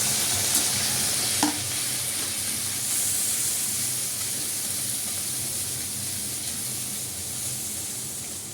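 Shrimp fry in a pan for a kharkul-leaf paste dish, producing a steady, even hiss of oil and steam with a single sharp utensil clink early on.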